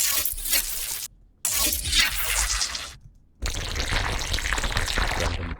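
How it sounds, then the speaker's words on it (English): Water recorded for a sound library: three broadband splashing and pouring bursts separated by brief silences, steady and fairly loud, with no voices. "Random water."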